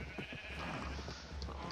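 Sheep bleat in Minecraft, their game cries rising over a steady, dense wash of background sound that fills the short stretch without pause.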